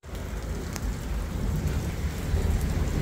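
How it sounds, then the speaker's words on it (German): Continuous rain pours steadily, a broad, even hiss that swells slightly louder toward the end, with no voices heard. "es regnet kontinuierlich"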